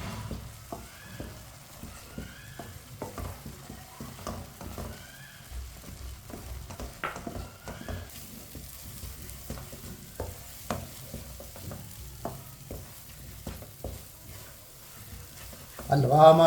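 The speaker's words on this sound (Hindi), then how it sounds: "मिक्स कर लेंगे और सूजी को थोड़ा गाढ़ा होने तक पका लेंगे" Semolina halwa with dry fruits and grated coconut cooking in a pan, a steady soft sizzle under repeated scraping stirs of a spoon, close by, with a louder clatter at the very end.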